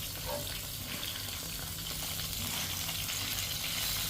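Dried fish (bulad) frying with garlic in a pan, a steady broadband sizzle running continuously and fairly loud from start to finish with no talk over it.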